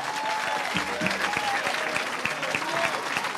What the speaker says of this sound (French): Give a hand clap unto the Lord.